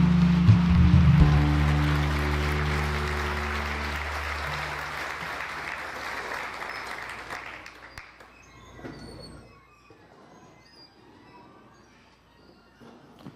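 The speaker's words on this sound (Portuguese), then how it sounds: "E nós vamos Te aplaudir, Senhor Jesus. Nós Te aplaudimos, Senhor." A church congregation applauds during worship, a broad wash of clapping at first under sustained music that fades away, then the applause thins out and dies down.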